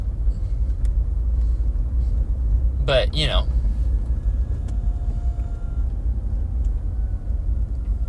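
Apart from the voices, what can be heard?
car driving on the road, engine rumble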